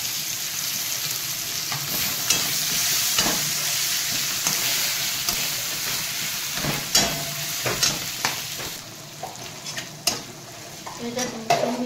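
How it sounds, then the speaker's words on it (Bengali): Garlic and five-spice seeds fry in hot oil in a pan for a Bengali kochu loti and prawn dish. A steady sizzle runs throughout, broken by sharp clinks and scrapes of stirring that grow busier toward the end. "এই তেলের উপরে এই রসুনটা দিয়ে দেবো, রসুনটা বেশি লাগে।"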